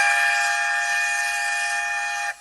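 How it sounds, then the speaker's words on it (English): A train heading to London St Pancras gives a steady, loud, tonal whistle-like drone that holds evenly for about two seconds before cutting off abruptly, with no voices. "So this is the sound of the train pulling you to London St."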